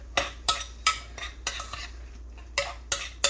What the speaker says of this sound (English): I use that spoon as an American, just mix it well and you make your pate